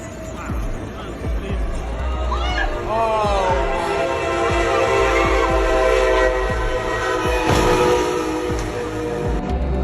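A train rumbles through a level crossing, its horn sounding in long sustained blasts over the steady roar of the railcars, with a voice speaking over it close by.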